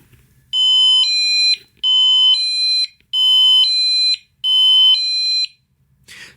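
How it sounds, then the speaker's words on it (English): Four electronic two-tone chimes from a motion sensor doorbell chime box, set on low volume, ring out in a regular sequence, each a bright sustained pair of tones, loud and close, with quiet gaps between. "And then this is the box that makes the chimes."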